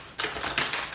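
Tarot cards are shuffled in a few quick riffling bursts, crisp and close, with short papery flutters over about a second.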